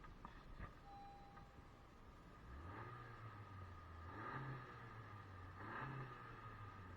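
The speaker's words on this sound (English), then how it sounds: "let's, as always, finish off the video with some revs" A 2018 Honda CR-V Touring engine revs a few times from idle, each rise in pitch brief and moderate, heard from inside the cabin with steady road-like hum underneath; no talking.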